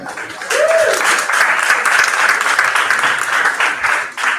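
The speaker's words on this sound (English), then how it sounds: "round of applause for these guys" Audience applause at a panel event with pro athletes, a dense, sustained wash of clapping from a crowd, close and loud, with a brief voice at the start.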